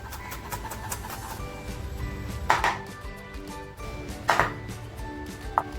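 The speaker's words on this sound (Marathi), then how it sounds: "अद्रक पण बघा अगदी पातळ कापून घेते" Ginger being sliced thinly with a knife on a board: a few sharp, separate chopping knocks spaced a couple of seconds apart over a low background hum.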